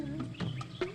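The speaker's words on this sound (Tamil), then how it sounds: "நாட்டுக்கோழி ஒண்ணு வருது." A few short clucks from a country chicken in quick succession, fairly close, over a faint background murmur.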